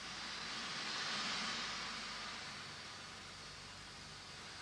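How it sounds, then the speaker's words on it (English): A jet of air and sand blasting against stone gives a steady, faint hiss of rushing wind that swells slightly early on, then eases, with a sharp burst at the very end. "This blast of wind is carrying a jet of sand to clean the stone."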